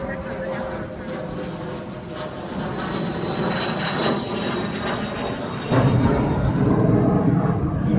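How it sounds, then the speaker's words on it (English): Propeller airplane flying overhead outdoors, a steady engine drone that swells louder toward the end while someone talks over it. "Another airplane."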